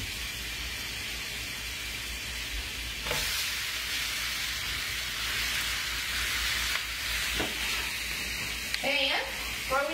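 Butter sizzles in a hot pan with a steady, close hiss that swells louder partway through, punctuated by a few light clatters and scrapes.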